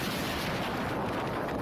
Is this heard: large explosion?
yes